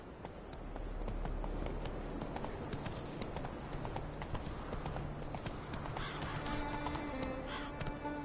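Horse hooves gallop at a steady, rapid clip-clop in The Witcher 3, with a whinny near the end, moderately quiet against a busy game background.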